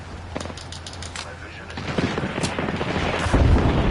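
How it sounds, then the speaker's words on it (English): An airstrike in the Apex Legends video game sets off a rapid barrage of booms and gunfire-like blasts that build in intensity over a few seconds amid busy game noise. "I called it an airstrike"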